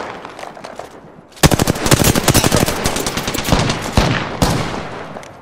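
Rapid automatic gunfire in a team shooter video game, loud, dense bursts of shots close up after a quiet moment, continuing without pause and with no talking.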